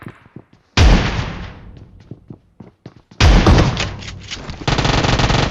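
Loud shotgun blasts in a battle royale video game, two big booming shots each followed by a decaying tail, with a final burst near the end and sparse clicks between.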